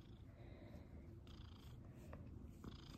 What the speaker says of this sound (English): We hear you purring.